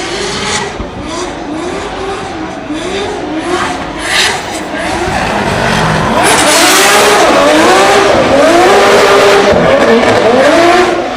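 BMW G87 drift car at a practice session of a drifting competition in Ireland, a loud engine wailing in rising and falling revs, joined by a swelling tire squeal that builds and holds loud toward the end.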